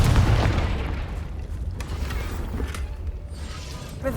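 A Confringo blasting spell from Hogwarts Legacy goes off in a dense rumbling burst, followed by a creaking, clattering rush of debris and low booms that taper off before a fresh crack at the end.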